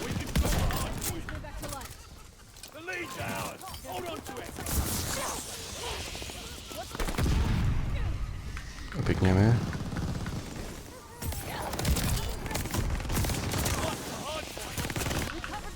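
Gunfire bursts from the video game Call of Duty: Vanguard, with scattered shots and rapid volleys at varying distances, while a player talks over the action throughout.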